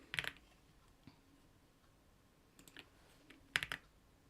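Keys tapped on a computer keyboard during a game stream: a short burst of clicks, one isolated tap, then two more quick flurries, close and fairly quiet against a faint steady background hum.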